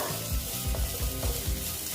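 Bitter gourd fries in oil with a constant sizzle up close, while a spatula scrapes and stirs the pan in a quick, regular rhythm.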